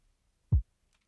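A single short synth bass note with no EQ applied, a low thump with a brief upper edge, followed by faint ticks, no talking.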